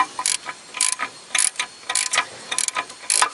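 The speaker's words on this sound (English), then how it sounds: "And now when this bolt is more open, I can start to use my small wrench" Small wrench ratcheting as it loosens a nut on the front coil spring and strut assembly of a 1992 Toyota Corolla, a series of short, close, rapid clicking bursts repeating in an uneven rhythm, with no talking.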